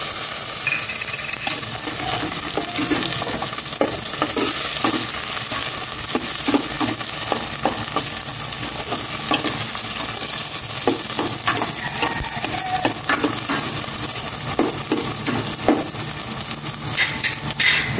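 Pork sautéing in a pan for pinakbet, after the tomatoes have gone in, with a loud, dense, continuous sizzle up close and frequent rhythmic scrapes and clatters of a spatula working the meat.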